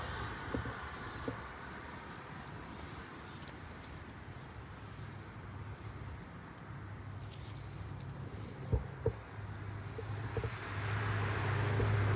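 Wind blows across an outdoor location as a low, faint, steady rumble against the microphone, with a few soft knocks, and grows stronger toward the end.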